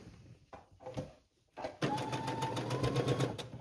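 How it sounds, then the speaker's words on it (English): A home sewing machine running a long basting stitch on a Christmas dress, a fast even mechanical whir that starts after a few short bursts and keeps going steadily, close and clear. "So let's put in that basting stitch all the way around."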